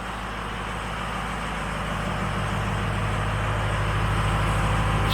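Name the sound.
2004 Ford F350 truck engine idling at exhaust, cold start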